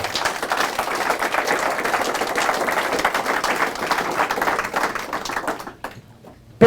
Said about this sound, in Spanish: Fuerte aplauso a Jesús.